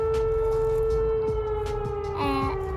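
A steady wailing civil defense siren sounds continuously at moderate distance, with a second pitch sliding in briefly near the end over low background rumble.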